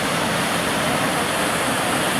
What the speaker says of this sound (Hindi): ये जी देखें पानी का कितना शोर है और कितना पानी स्पीड से आ रहा है।